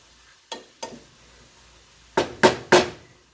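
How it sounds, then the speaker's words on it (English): A sizzling stir fry is stirred in a pan, with a few light scrapes and then three louder, close scraping stirs over the frying hiss. "It's a stir fry, right? So you have to keep stirring."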